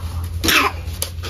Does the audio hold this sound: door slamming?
no